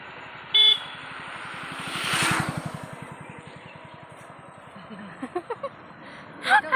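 Car approaching from the opposite direction on a forest road in Konkan, a horn tooting near the start and again briefly at the end over a rumbling engine, with faint voices nearby.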